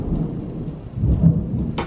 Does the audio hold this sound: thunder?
yes